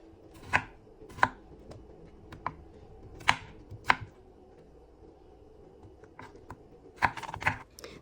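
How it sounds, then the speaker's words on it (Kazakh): A knife chops tomato and cucumber on a board for an eggplant salad. The cuts land as sharp, separate taps close to the microphone, arriving in small irregular bursts over a quiet background. "Ішіне помидор және огурцымызды осындай қалыңдықта, үлкендікте турап аламыз."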